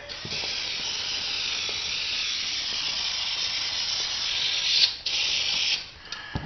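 A steady spray hisses continuously onto a floor during vinyl flooring installation for several seconds, close and loud, with a brief break near the end before spraying resumes.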